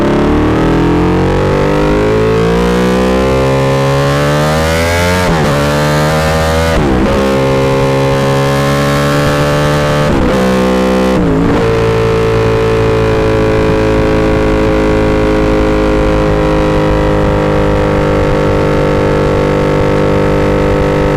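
A Ducati Desmosedici RR V4 motorcycle engine revs hard, rising in pitch through several sharp throttle blips with brief drops, then settling into a loud, steady high idle for the rest, close and alone.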